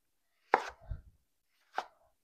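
Potatoes chopped for crockpot soup, two knife strikes on a cutting board about a second apart, close and clear, with a faint low thud after the first.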